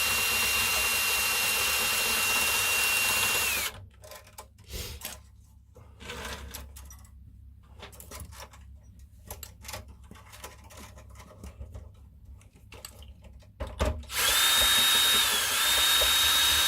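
A string winder whirs on the tuners of a 1935 C Bruno New York parlour guitar, a steady buzzing spin at the start and end with quiet clicks and handling in between.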